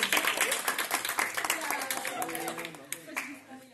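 A group in a music workshop claps after a song game, starting as loud, distinct hand claps that thin out, with voices talking and calling over them toward the end.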